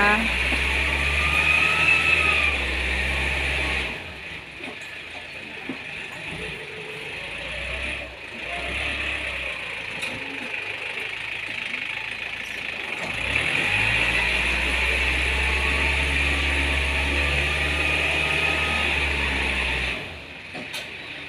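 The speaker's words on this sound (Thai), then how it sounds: "รถไถนะคะ กำลังปรับพื้นที่นะคะ" A tractor's heavy diesel engine rumbles steadily nearby as it levels ground, its low drone dipping and swelling as the machine works, with faint background noises throughout.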